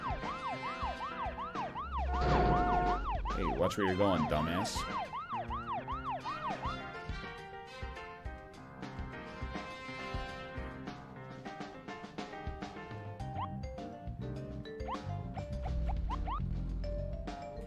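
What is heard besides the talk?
police car siren in the video game Deadly Premonition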